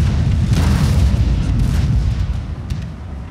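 Mortar fire in a video game battle, a loud deep rumbling boom that rolls on steadily and fades slightly toward the end, with no talking.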